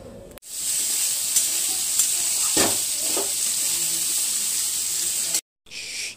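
Gatte gram-flour dumplings dropped into boiling water in an unwashed wok (kadhai) that held vegetable curry, giving a steady loud bubbling sizzle for several seconds before cutting off briefly.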